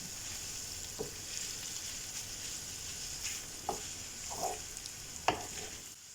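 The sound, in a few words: frying chicken with onion and garlic, stirring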